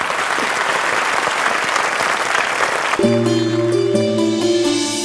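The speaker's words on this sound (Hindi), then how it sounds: "जोरदार ताली" Loud applause fills the first three seconds at a TV show event, then cuts to a sustained musical chord with layered tones.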